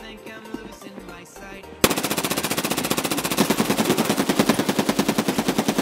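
Automatic gunfire in the Escape from Tarkov shooter game: after a quiet stretch, a loud burst opens and rapid shots follow in a fast, steady rhythm, close and dominant.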